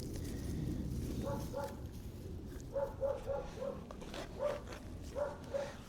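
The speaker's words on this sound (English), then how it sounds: "Dogs are barking." Dogs barking in a backyard neighborhood, a series of short, muffled yaps in irregular bursts heard at a distance over a low background rumble.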